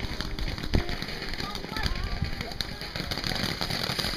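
Fireworks exploding at a backyard fireworks show, with scattered crackling pops and fizzing bursts at a middle distance while people talk over them.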